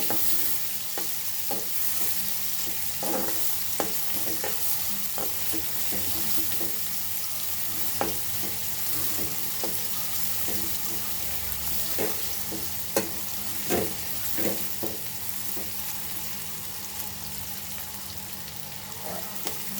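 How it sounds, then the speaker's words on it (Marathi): Onions for a capsicum sabji sizzle steadily in a pan while a spoon stirs them, giving a continuous frying hiss broken by irregular scraping clicks and taps, close and moderately loud with no voices. "कांद्याला अगदी एक ते दोन मिनिट आपण असं परतून घेऊया"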